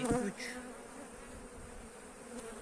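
Honey bees buzz close by in a hive being fed sugar, a short, rising drone heard alone without talk.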